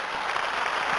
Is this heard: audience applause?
yes